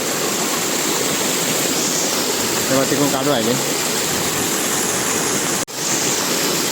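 Rainwater rushes down from an upper rice field into the paddy below during heavy rain, a loud continuous roar of flowing water, with someone speaking briefly over it.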